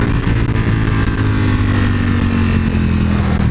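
A Ducati Panigale V4 S is ridden on a racetrack circuit, its engine holding a loud, steady, close drone with strong low harmonics and no talking.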